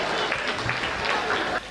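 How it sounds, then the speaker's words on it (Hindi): A crowd claps loudly at a Hindi comedic poetry recital (kavi sammelan), a dense burst of applause that cuts off abruptly near the end. "भगवान कसम क्या खतरनाक ताली बजा रहे हो आप"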